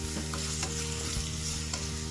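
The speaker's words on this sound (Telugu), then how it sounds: "మనం ఫ్రై చేసుకోవాలి" Tomatoes fry in a hot pan with a dense, steady sizzle, heard close up and continuous with no talking.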